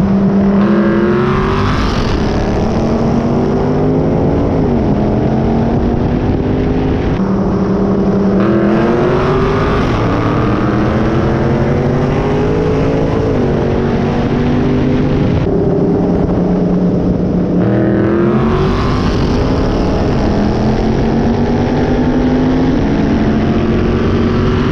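A tuned Dodge Scat Pack running E85 with full bolt-ons and headers races flat out, a loud continuous engine roar rising through repeated gear pulls, with no talking.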